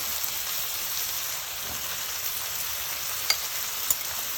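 An egg sizzles in a hot pan for a Cantonese tomato and egg stir fry, a steady bright crackle with a few sharp pops near the end, close by, with no talking.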